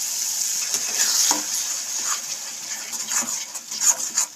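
Tomato paste frying and being stirred with spices in a pan, for a jackfruit and prawn curry, a steady close sizzle with scraping stir strokes through it and no talk.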